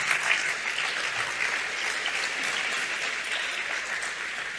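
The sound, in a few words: audience applause at a summit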